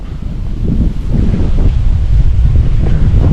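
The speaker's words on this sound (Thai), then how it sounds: "ลมโคตรเย็นเลย" Strong cold wind buffeting the microphone outdoors, a loud continuous low roar that swells and stays heavy throughout the short clip, with no voices.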